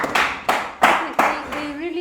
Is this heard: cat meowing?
no